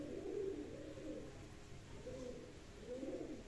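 A pigeon coos softly and close by, low throaty rolling calls repeating in about three swells over a few seconds, with no talking.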